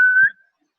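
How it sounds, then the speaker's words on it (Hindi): A single short, sharp whistle rings out in a classroom during an English grammar lesson, lasting under half a second and followed by silence. "सीटियां कौन बजा रहा है?"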